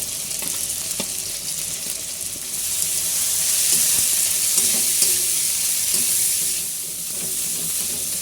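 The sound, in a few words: deboned fish filling added to pan, frying and stirring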